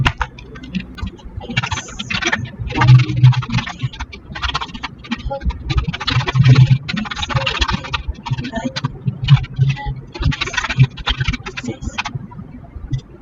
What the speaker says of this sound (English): Now let me type something quickly